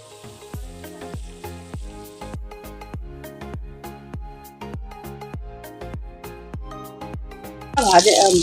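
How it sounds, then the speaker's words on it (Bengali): Stuffed pointed gourd (potol) and fritters fry in a pan, a steady rhythmic series of sizzling pops with faint tonal hum, ending in a louder hissing burst. "বাকি যে বড়াগুলো ছিল, পটলগুলো ছিল, সেগুলো আমি ভেজে নিচ্ছি।"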